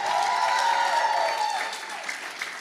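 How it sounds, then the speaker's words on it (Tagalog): A Tagalog church congregation claps during preaching, a fairly loud spread of many hands clapping with a sustained sung or spoken tone riding over it before easing off. "Lakasan mo yung palakpak mo, Joseph!"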